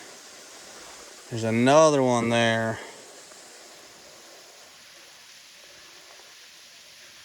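A faint, steady rushing of falling water runs throughout, briefly covered by a person speaking near the start.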